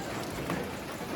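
Morning rain in Muang Ngoi, northern Laos, a brief burst of constant hissing rainfall patter nearby.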